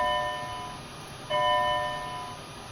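Bell ringing indoors in a classroom, two struck tones with sustained, ringing overtones, the second strike louder than the first and slowly fading, with no speech over it.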